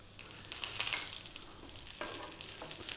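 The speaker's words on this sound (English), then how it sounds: "We're going to drop in those small amount of the cumin seeds" Cumin seeds sizzling in hot sunflower oil for a raita tempering, a steady, fairly quiet crackling fry with soft stirring bursts and no talking.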